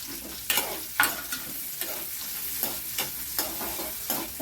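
Chopped onions for Tamil egg masala gravy sizzle and crackle steadily in hot oil, close up, with the occasional scrape and stir of a utensil against the pan.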